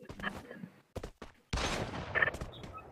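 Gunfire in the mobile battle game Free Fire: several short sharp shots in the first second, then a longer loud sustained burst of rapid fire, close and dominant.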